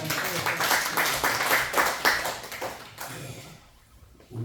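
Audience at a church lecture on joint health clapping in a brief burst of applause for about three seconds, fading out, with a voice speaking near the end.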